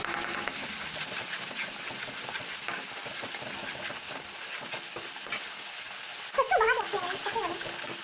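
Food fries in a pan while rajma chawal is cooked, giving a steady, fairly quiet sizzle with faint stirring. A louder burst of activity comes near the end.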